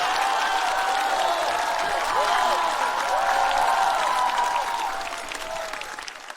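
A stand-up comedy audience bursts into loud, sustained applause mixed with cheers and whoops, rolling on evenly before fading slightly near the end.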